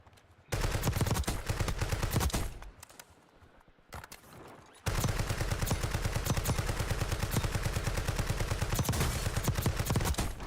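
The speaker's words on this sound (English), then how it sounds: "we got 2 people shooting" Rapid automatic gunfire in Call of Duty Warzone: long dense bursts from two shooters, a brief quieter lull of scattered shots, then sustained heavy firing resuming.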